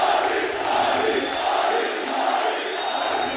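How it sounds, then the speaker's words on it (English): A large arena crowd at a Valorant esports match between DRX and FPX cheers in a steady, dense roar that holds at a loud level throughout, with no distinct individual voices. "The crowd absolutely behind this man. They can feel it. They are cheering his name."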